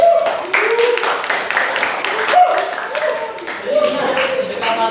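Audience applause for Mas Gibran in a classroom, a burst of clapping from a group that runs throughout with voices mixed in.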